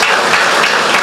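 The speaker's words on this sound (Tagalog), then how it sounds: "Malakas na palakpakan para sa Panginoon." Dense, steady applause from a congregation praising the Lord at a Filipino church service, a brief, continuous wash of clapping with no break.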